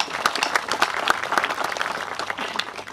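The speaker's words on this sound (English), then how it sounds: "To the students, we should clap." Applause from an audience at a high school football field groundbreaking ceremony, steady patter of many hands clapping at moderate volume, continuous throughout with a few sharper individual claps standing out.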